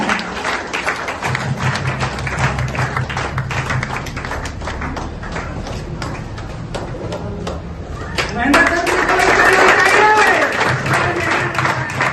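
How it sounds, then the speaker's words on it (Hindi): An audience keeps clapping continuously at an office opening event, with a host's voice over the applause and the clapping and crowd noise swelling louder near the end. "जोरदार ताली बजाते रहना।"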